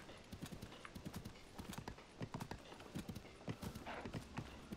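Horse hooves clip-clop steadily in Zelda: Tears of the Kingdom, a rapid, even trot of hoofbeats running through the whole stretch at moderate loudness, with an occasional faint whinny mixed in and no talking.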